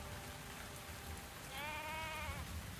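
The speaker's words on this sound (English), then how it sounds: "No one's gonna bring that sheep inside. Just gonna die out in the rain." A sheep out in the rain in a video game lets out a single wavering bleat over a steady hiss of rainfall, faint and a little distant, heard about halfway through.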